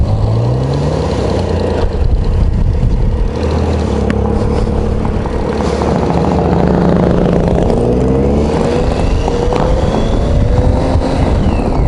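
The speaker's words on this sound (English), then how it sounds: "Motorcycle's coming up beside you." A motorcycle engine roars close by, rising and falling in pitch as it revs and pulls alongside over steady road and wind noise.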